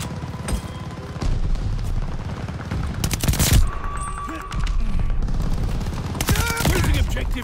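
V2 rocket strikes in Call of Duty Vanguard on the Tuscan map land as a chain of heavy booming explosions amid rattling gunfire, loud and close, with voices calling out through the chaos.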